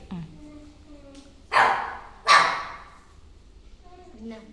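A person's voice mimics a dog barking, two loud, close bark-like yelps in quick succession, with quieter talk around them.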